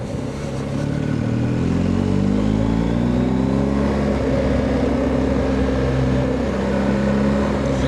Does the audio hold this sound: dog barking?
no